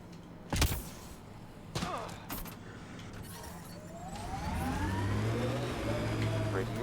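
Car engine in Mass Effect: Andromeda, revving up and accelerating during the last few seconds after a couple of thumps, over steady game background noise.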